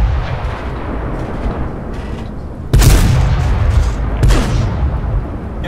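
A tank cannon fires in World of Tanks, two heavy booming blasts several seconds apart over constant rumbling battle noise, loud and close.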